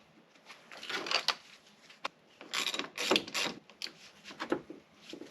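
Ratchet wrench turning a nut on a Ford Mustang, a run of quick mechanical clicking bursts separated by short pauses, close and moderately loud with no talk.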